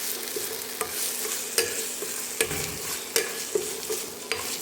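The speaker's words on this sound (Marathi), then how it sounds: "हे उकडलेले बटाटे ह्याला चांगलं हलवून घेते" Boiled potatoes and peas are stirred in a steel kadhai over a low sizzle, a spoon scraping and knocking against the metal about every second in an uneven rhythm, close and clear with no talking.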